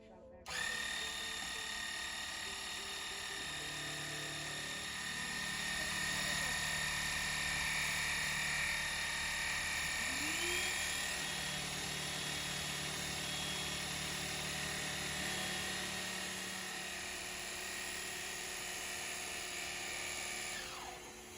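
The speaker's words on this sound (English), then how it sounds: "the loudness of the saw combined with the shop vac" A scroll saw whines steadily as it cuts, with a shop vacuum roaring alongside; the combined high-pitched drone stays loud and constant throughout, with faint talk underneath.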